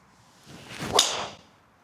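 A Ping G440 K driver swings through with a quick whoosh and strikes the golf ball with a sharp, bright impact, heard alone and fairly close.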